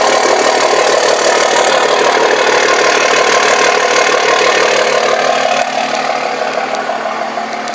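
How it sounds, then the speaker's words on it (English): A 2006 Dodge Ram 2500 with the 5.9L Cummins diesel and straight pipe exhaust idles steadily, a loud, close, even rattling clatter that eases slightly in level toward the end. "So this truck does have aftermarket exhaust, straight pipe exhaust."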